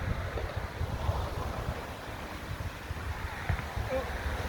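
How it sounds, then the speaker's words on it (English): Wind blows outdoors straight into the microphone, producing a continuous low rumbling buffet with irregular gusty swells and no clear pauses. "But the wind is out here, Salaki."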